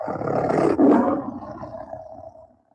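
A lion's deep roar rumbles loudly through a radio advertisement, one sustained bellow with a second surge, then trails off into quiet at the end.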